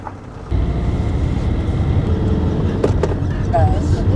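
A camper van pulls away and drives off, its engine and road noise swelling abruptly into a steady, fairly loud rumble that carries on to the end.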